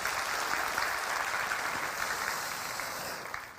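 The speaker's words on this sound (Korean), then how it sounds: "좋으신 하나님 앞에 박수로 영광을 돌려드리겠습니다." A church congregation applauds at a Sunday worship service, a steady dense wash of clapping that fills the hall and tapers slightly toward the end, with no talk over it.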